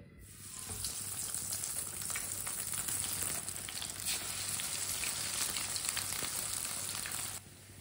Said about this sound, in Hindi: घी हमारा गर्म हो चुका है। अब इसे एक एक करके डाल लेंगे।